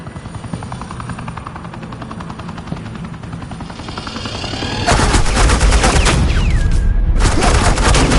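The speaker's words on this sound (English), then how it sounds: "Suppressing fire" Suppressing gunfire in the video game Batman: The Enemy Within, starting as a rattling, rotor-like drone and swelling into a loud, dense wall of rapid automatic fire and blasts for the last few seconds.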